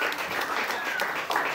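Live audience at an Asylum NYC comedy game show applauding as the next contestant is introduced, a short burst of dense, steady clapping filling the room, loud and close.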